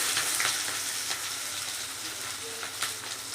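Sliced onions crackle in hot oil already seasoned with fennel seeds, a soft steady sizzle with a few sharper pops, heard close and faint, without talk.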